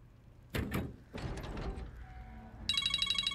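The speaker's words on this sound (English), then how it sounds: "I had that alarm on because I was cooking." A phone alarm set as a cooking timer bursts into a loud, rapid electronic ringing near the end, following a few thumping knocks and a rustling stretch.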